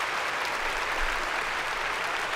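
Steady, dense applause from an audience, continuous and fairly close for the whole stretch with no voices on top.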